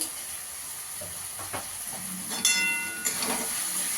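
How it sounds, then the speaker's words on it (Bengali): Ground spices (turmeric, cumin, coriander, Kashmiri chilli) sautéed in a pan, a continuous hissing sizzle with occasional stirring scrapes and a brief louder burst, close and steady. "ভালো করে মশলাটাকে কষিয়ে নেব।"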